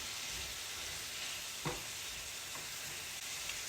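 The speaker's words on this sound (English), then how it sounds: "And then we're going to add the meat." Cheesesteak meat fries in a pan with a soft, steady sizzle, and one or two faint clinks sit on top of it. The sound stays quiet and even throughout, with no voices.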